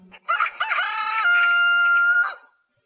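A hen gives a bright clucking cackle that stretches into a long crowing call, loud and close against silence, about two seconds long.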